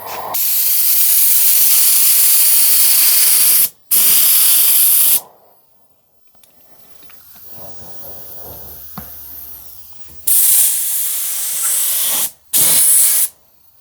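Loud bursts of hissing paint from a spray gun come in several long passes, broken by short gaps and a quieter stretch of faint handling noise in the middle.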